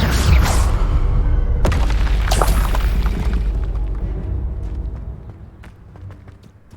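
Fiery spell blasts from Confringo and Incendio in the video game Hogwarts Legacy, a loud booming burst at the start and another around 1.7 seconds, with roaring, crackling rumble trailing off and fading toward the end.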